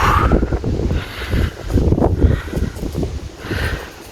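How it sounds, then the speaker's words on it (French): Gusty wind in a forest buffets the microphone in low, uneven rumbling bursts that swell and fade over a few seconds. "c'est venteux et ça ne nous convient pas"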